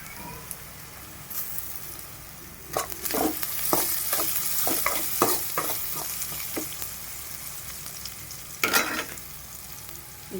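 Garlic fries in a pan with a steady sizzle, broken by clusters of scraping, clattering stirs from a spoon against the pan.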